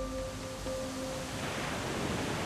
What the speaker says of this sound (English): Oh, that's surf. Definitely surf.